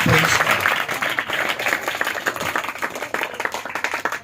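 A worship congregation claps loudly together in praise of God, a dense, sustained burst of many hands with a few sharp peaks, close and full, tapering slightly toward the end.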